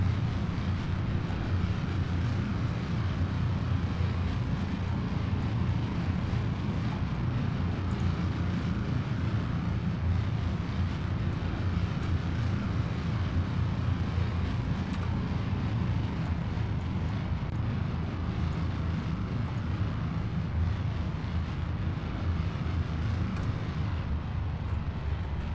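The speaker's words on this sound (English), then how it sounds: "Going into deep throttle mode on the twin KS25s." Twin KS25 rocket engines firing at full throttle in Kerbal Space Program, a steady, dense roar that holds unbroken and evenly loud throughout.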